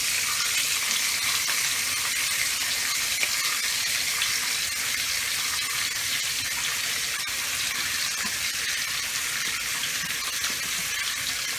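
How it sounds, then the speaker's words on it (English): Onion frying in bacon grease in a pan for fried rice, giving a steady, close hiss and crackle of sizzling fat with faint clinks throughout, and no one speaking. "I'm actually using bacon grease. I'm going to add a little bit more to that. And to that, I'm also going to add me some onion."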